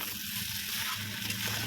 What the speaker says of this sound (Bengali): দেখুন সুন্দরভাবে আমার কষানো হচ্ছে। ওপর থেকে একটু তেল দিয়ে দিলাম, আর কিছুক্ষণ কষিয়ে নেব।